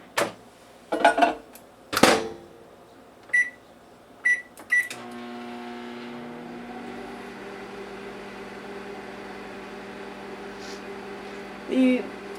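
A microwave oven runs steadily with a low even hum after a few clicks and beeps from its controls, heating a small amount of marshmallows, ending with a brief louder clunk near the end.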